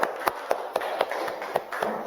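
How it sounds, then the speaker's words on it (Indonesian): A group of students clap in unison during a classroom lesson, nine or ten sharp, evenly spaced claps in a steady rhythm, close and moderately loud. "Tepuk tangannya."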